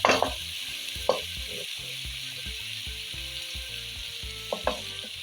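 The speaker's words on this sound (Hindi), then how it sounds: "अब जाएगी इसके अंदर गोभी।" Cauliflower sizzles in hot masala in a dhaba-style aloo gobi pan, a steady close frying hiss with a few sharp clatters of stirring, no voices.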